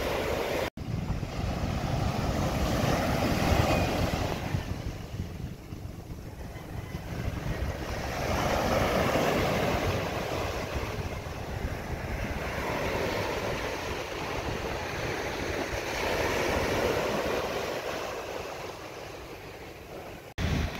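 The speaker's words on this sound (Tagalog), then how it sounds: "Medyo may hangin-hangin na yung karagatan, nabagat ang hangin." Wind gusting over open sea at a boat repair spot, a steady broadband roar with swelling surges of surf and wind buffeting the microphone, continuous and fairly loud with no voices.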